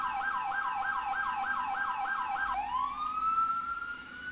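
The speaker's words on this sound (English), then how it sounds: "They all seem to have about the same siren" Emergency vehicle siren from the EmergeNYC video game, a fast, loud wailing yelp cycling about eight times before switching to a slower rising wail, close and alone.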